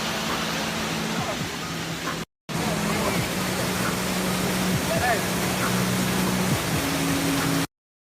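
Steady, loud roar of a jungle waterfall, a broad rushing wash of falling water close by, unbroken apart from a brief cut, with faint tonal hums running beneath it.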